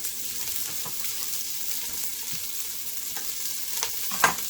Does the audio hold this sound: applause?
no